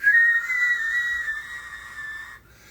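A man whistles with his lips, pushing air out the sides to imitate a train whistle: one sustained, slightly wavering tone held for over two seconds, close and fairly loud, then cutting off.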